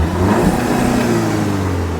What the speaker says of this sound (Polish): Dźwięk, dźwięk silnika jest taki, powiedziałbym, taki normalny po prostu, no.